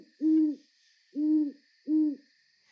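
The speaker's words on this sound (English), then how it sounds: "I woke up to the sound of an owl outside my window" An owl hoots three times outside a window at night beside a forest on Vancouver Island, each low, even hoot spaced about a second apart against near silence.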